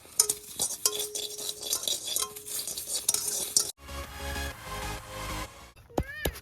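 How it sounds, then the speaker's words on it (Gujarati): Utensil stirring food in a home cooking pan while urad dal vadas are prepared, giving scraping and clinking in uneven strokes over a faint sizzle, with a brief clatter near the end. "ફટાફટ હલાવો, બળી જવાનું."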